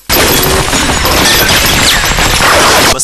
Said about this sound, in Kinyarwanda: Masasu.